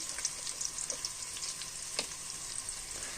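Onions sautéing in a pan with ginger-garlic paste give a soft, even sizzle with light popping and a few faint stirring clicks, no one speaking.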